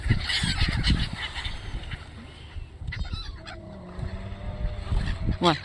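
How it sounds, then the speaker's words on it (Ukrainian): Seagulls calling over a seaside park while catching food in flight, giving loud honking, squawking cries in irregular bursts against outdoor background noise, with a sharp cluster of calls at the end. "Ось чайки як ловлять на льоту."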